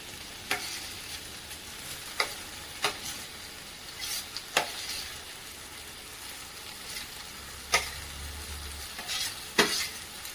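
Eggplant pulp stirred and fried in a hot pan with sautéed onion, giving a steady soft sizzle broken by irregular scraping strokes of the spoon.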